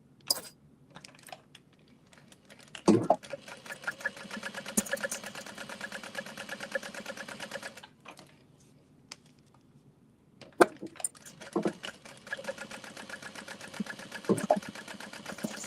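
A sewing machine runs in long steady bursts, stitching a sling with 3/8-inch top stitching. The rapid mechanical chatter stops briefly a few times, with occasional clicks between runs.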